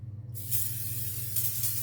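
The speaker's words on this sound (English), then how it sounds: "spray my tray with seal spray and then line it." A short burst of aerosol cooking spray hisses onto a baking tray, followed by a second brief spritz, over a low steady hum.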